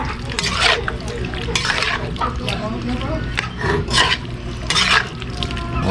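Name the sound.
stirring adobong patuyo in the pan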